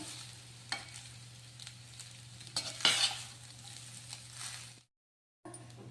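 Curry leaves being stirred and fried for jeera rice, with soft scraping strokes and a faint steady sizzle in a pan, a louder scrape near the middle and a brief silence before the end.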